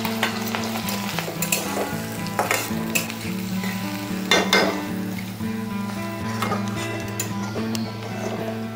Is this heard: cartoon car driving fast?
no